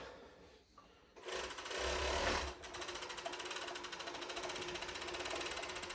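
A JACK K5-UT-01 cylinder-arm industrial coverstitch sewing machine runs steadily with a fast, even rhythmic stitching hum after a brief start, continuous and close.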